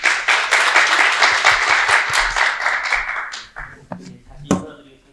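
Audience applause welcoming the first presentation at a Korean user conference, a steady burst of clapping from many hands that fades out after about three seconds, leaving scattered claps and faint room noise.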